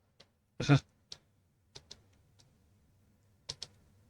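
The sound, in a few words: typing on a wireless computer keyboard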